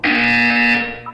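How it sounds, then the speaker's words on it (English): A loud, steady electronic buzzer from the video game Portal 2 sounds in a single sustained blast of about a second, then cuts off into a short tonal chime. "When you hear the buzzer, look up at the ceiling."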